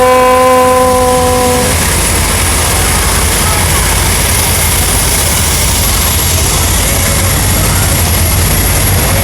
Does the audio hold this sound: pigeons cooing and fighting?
no